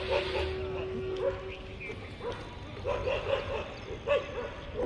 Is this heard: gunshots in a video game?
no